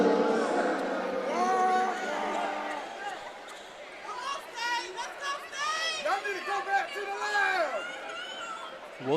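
Savannah State fans in a college basketball arena making steady crowd noise and rising cheers, with sneaker squeaks on the court and a commentator talking over it throughout.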